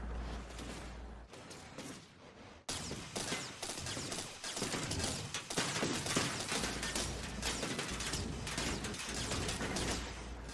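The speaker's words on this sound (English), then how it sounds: "I hear gunshots." Gunfire in the vehicle-building video game TerraTech on Xbox One: a continuous rattling barrage of shots and mechanical clatter, moderately loud and steady throughout.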